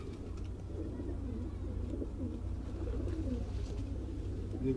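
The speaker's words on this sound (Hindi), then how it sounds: "ये बटेर कबूतर है।" Quail-type (bater) pigeons cooing nearby in a steady low murmur, several birds overlapping continuously, with faint chirps on top.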